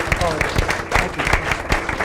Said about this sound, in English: Could we give a round of applause for a 20-year veteran of our country